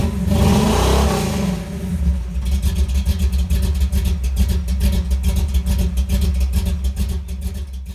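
Pickup truck fitted with a 3000 stall torque converter accelerating hard, a loud, steady engine roar with deep low rumble and rising revs, close and continuous with no voices.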